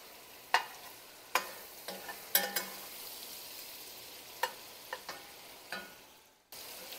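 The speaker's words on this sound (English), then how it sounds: "then we'll saute our onions and garlic" Onions and garlic sautéing in bacon grease in a soup pot, a soft steady sizzle broken by sharp scraping clicks of a utensil stirring at irregular intervals, close and fairly quiet.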